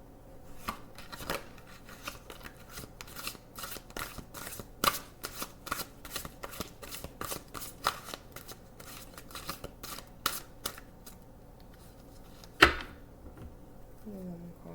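Tarot cards are shuffled by hand in a long, irregular run of crisp riffling and slapping bursts, close and fairly quiet, ending with one sharper snap.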